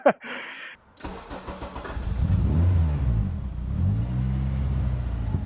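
A tuned Nissan Micra fires up for the first time: a short cranking burst, a pause, then the engine catches and revs unevenly, rising and falling before holding a rough, loud idle up close.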